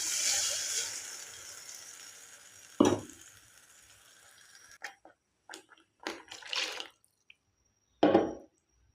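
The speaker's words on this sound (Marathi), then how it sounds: "याच्यानंतर आपल्याला थोडं थोडंसं पाणी ॲड करायचं आहे याच्यात." Masala paste frying in a pan hisses steadily, then water added in small amounts sets off a loud sizzling burst followed by several shorter splashy sizzles and gaps of quiet.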